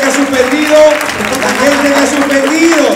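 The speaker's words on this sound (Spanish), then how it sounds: "fuerte el aplauso para Laura" Audience applause for a woman returning from the crowd at a comedy show at the César Manrique cultural venue. Loud, steady clapping with voices mixed in throughout.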